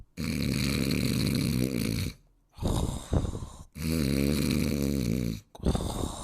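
A voice imitates loud snoring: three long, rasping inhaled snores separated by short pauses, close and harsh.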